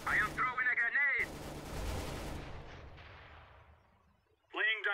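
A grenade goes off in Counter-Strike on the Inferno map, one loud booming blast that rolls and fades over a couple of seconds, set between short bursts of voice chatter.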